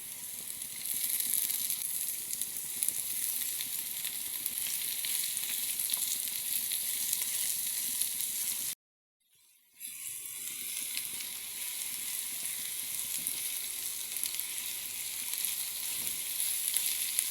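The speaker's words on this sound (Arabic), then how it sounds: "قطعت بصل، هحط كمية من زيت الزيتون وقلي البصلات." Chopped onions frying in olive oil give off a steady, close hiss and crackle that breaks off for about a second before resuming just as before.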